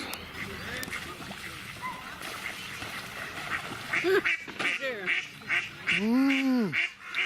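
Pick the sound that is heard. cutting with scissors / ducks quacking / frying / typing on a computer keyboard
ducks quacking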